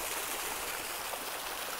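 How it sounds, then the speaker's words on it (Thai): Water released to flow down a small stone channel, a steady close rushing and trickling stream with no breaks, moderately loud. "เขาปิดน้ำเพื่อให้น้ำไหลมาทางนี้"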